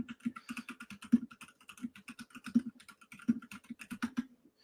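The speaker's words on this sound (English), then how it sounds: "I think he's typing it in." Fingers type quickly on a computer keyboard, a close, steady clatter of key taps with a few heavier strokes standing out, heard alone without talk.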